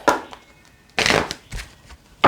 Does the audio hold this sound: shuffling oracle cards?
yes